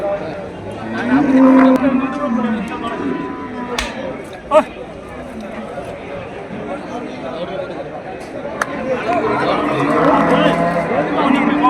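Bulls moo at the Melapalayam cattle market near Tirunelveli, with several drawn-out calls rising over a busy crowd and close conversation.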